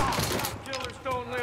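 Gunfire breaks out during a tense mafia video game cutscene, rapid overlapping shots rattling over a dense, noisy scene as voices shout.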